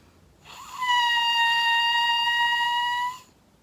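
An oboe reed blown on its own without the instrument makes a single sustained buzzing peep, a bright reedy tone held steadily for about two and a half seconds, alone and fairly close.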